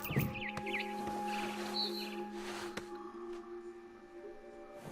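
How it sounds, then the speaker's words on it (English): In the video game What Remains of Edith Finch, a barn swallow gives a few quick, bright chirps near the start, set against soft sustained ambient tones and faint game sounds. "Then I heard chirping outside my window. It was a barn swallow going back to her nest."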